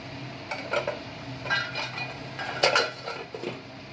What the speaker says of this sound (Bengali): এবার ঢাকনা উঠিয়ে আমি দেখে নিই কতটা কি হলো